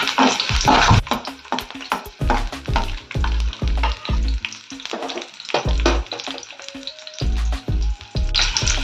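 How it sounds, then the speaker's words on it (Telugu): Green chillies sizzle in hot oil while a spatula stirs them with repeated scraping, knocking strokes against the pan, close and fairly loud. "ఆయిల్ వేడెక్కినాక పచ్చిమిరపకాయలు వేసుకున్నాం ఒక పది సెకండ్ల పాటు వేయించుకున్నాం"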